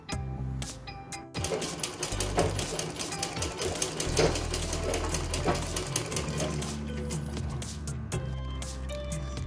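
A sewing machine stitching a blouse, rapid rhythmic needle clatter close by, starting after a few brief clicks and running in a continuous burst with slight speed changes.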